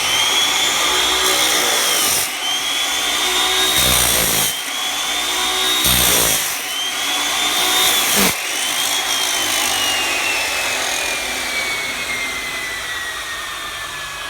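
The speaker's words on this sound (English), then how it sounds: "Pay attention to the way I cut, and we'll talk about it after the cut." Metal cut-off saw cutting in repeated loud bursts with a high whining tone, each pass interrupted briefly, then the motor winding down as the pitch slowly falls toward the end.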